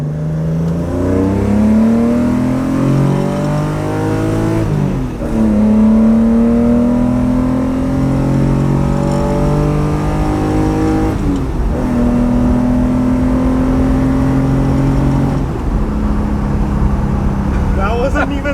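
1971 Nissan Skyline Hakosuka with a twin-cam inline-six engine revs up through the gears in three long, smooth rising pulls, loud and close from inside the car, with people talking over it.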